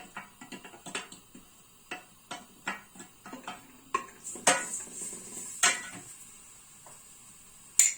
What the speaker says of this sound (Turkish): şöyle ısınmış olan yağımızın içerisine şöyle sarımsağımızı aktarıyoruz